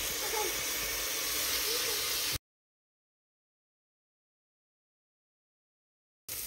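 Chopped tomatoes hit a hot pan of stirred onions with a loud, broad sizzling hiss for about two seconds before cutting to silence, with a brief return of the hiss at the very end.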